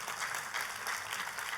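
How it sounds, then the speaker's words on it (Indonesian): Applause from a church congregation during an Indonesian sermon, steady soft clapping heard from a distance for a brief stretch, with no voice over it. "kasih tepuk tangan"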